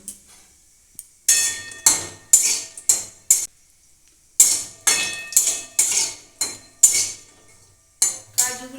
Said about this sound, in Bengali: এবার কাজুগুলো ভেজে নেব